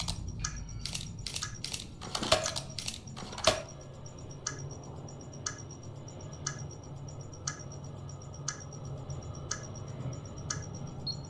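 A bomb countdown in Modern Warfare 3 ticks steadily, sharp evenly spaced beeps about once a second over a low background rumble, after a quick burst of clattering clicks at the start.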